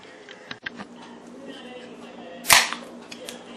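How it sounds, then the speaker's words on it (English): A beer can cracked open in a kitchen while chicken and dumplings simmer on the stove, giving a single sharp, bright pop and hiss midway through amid faint background handling sounds. "That's the crack of a brewski."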